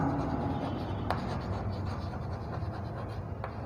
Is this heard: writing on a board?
yes